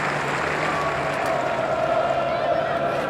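Spectators at the Basin Reserve, Wellington, applaud during a 1992 Cricket World Cup match between New Zealand and England, a steady wash of clapping that holds evenly throughout with faint crowd murmur beneath.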